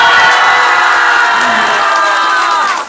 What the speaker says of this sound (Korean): 비명 소리가 커야 레벨을 많이 줘.